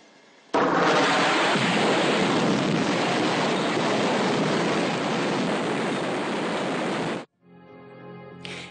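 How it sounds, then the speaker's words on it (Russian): A large quantity of artillery shells stored in a railway wagon explodes, a sudden loud blast that becomes a steady, roaring wall of noise for several seconds before cutting off abruptly. "именно так выглядит взрыв такого количества снарядов"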